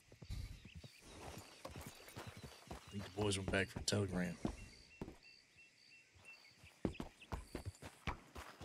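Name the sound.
horse hooves clip-clopping, from a video game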